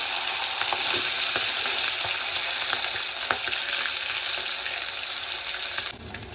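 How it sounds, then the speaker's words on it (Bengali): Rohu fish pieces fry in hot oil in a wok with a loud, dense, continuous sizzle and scattered sharp pops and crackles. The sizzle drops slightly near the end. "কড়াইতে তেল গরম করে তেলের মধ্যে আমি মাছগুলোকে ভালো করে ভেজে নেব"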